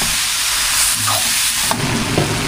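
Food sautés in a hot pan to drive off its fishy smell, a continuous close hissing sizzle with a couple of faint clinks of a utensil.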